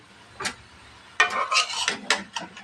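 A spoon stirs vegetable bhaji frying in a pan, making scraping and clinking strokes in a loose rhythm over a faint sizzle, close and fairly quiet, with no speech.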